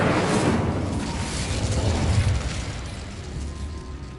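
Incendio fire spell cast in Hogwarts Legacy, a loud roaring blast that swells over the first couple of seconds and then settles into a steady rumbling whoosh, continuous and full throughout.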